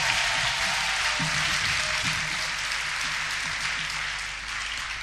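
A church congregation applauding to acclaim the Lord, a broad, steady wash of clapping that fades slightly toward the end, with faint voices mixed in.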